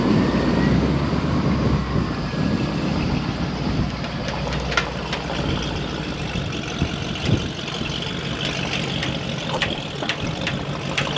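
A Jeep Gladiator's engine runs at low steady revs in drive while being towed by a strap, a close continuous rumble with no talk.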